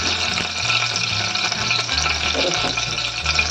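Asafoetida hitting hot oil with curry leaves over a low flame while tempering toor dal, giving a steady, close, dense sizzle and frying crackle with light stirring and no talk.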